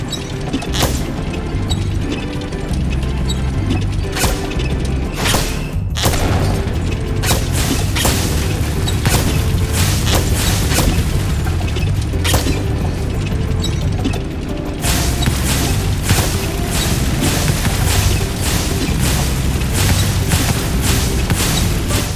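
A cannon fires cannonballs in the video game Spyro Reignited Trilogy, with repeated booming shots and clattering mechanical impacts over a continuous game soundscape, with no voices.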